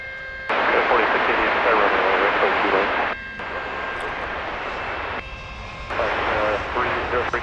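A jet airliner roars steadily on a runway at DFW Airport during takeoff, loud and continuous broadband engine noise with slight level shifts, while radio-style voices talk over it.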